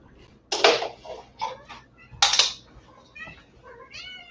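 A domestic cat meows twice, close and fairly loud, with softer chirping cat calls in between and trailing off at the end, no talking.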